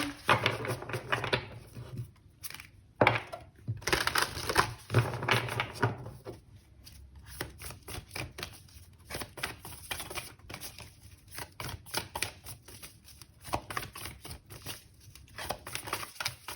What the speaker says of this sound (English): So I'll just shuffle.